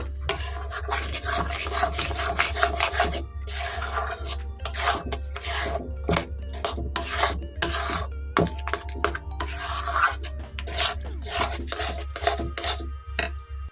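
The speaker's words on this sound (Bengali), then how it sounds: "এখন আমি এর মধ্যে দিয়ে দেব কিছুটা চালের গুঁড়ো চালের গুঁড়োটা দিয়ে একইভাবে মিক্সড করতে থাকবো" Rice flour is worked into jaggery by hand in a continuous rasping, rubbing rhythm of short scraping strokes, close up, over a low steady electrical hum.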